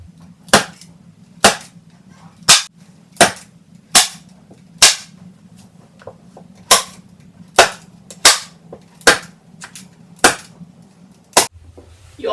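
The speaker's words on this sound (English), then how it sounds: "your staple gun, and staple it into place." A staple gun fires over and over, driving staples through fabric into a bar stool seat; the sharp, loud snaps come at an irregular pace of about one per second, with faint handling noise between shots.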